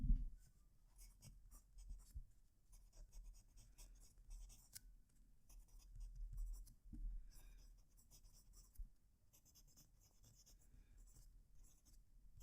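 A TWSBI fountain pen scratches across paper with a close microphone, giving soft, continuous nib strokes with little pauses between words and letters, low and intimate, with no talking.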